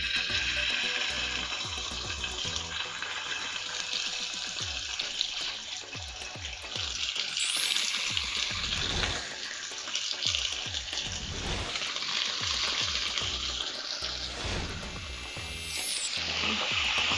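Beef chunks, cut three to four centimeters, sear in hot oil in a pan over high heat, giving a loud, dense, continuous sizzle and crackle close by, with a few brief clanks and no talking.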